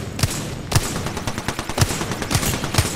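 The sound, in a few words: gunfire in the video game Apex Legends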